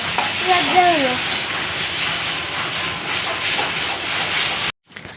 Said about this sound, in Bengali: এটা রিওর চাউমিন হচ্ছে শুধুমাত্র নুন আর হলুদ দিয়ে ফ্রাই করে দিচ্ছি